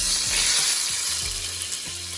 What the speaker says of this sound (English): I'm going to go ahead and add, I'm gonna add my tomatoes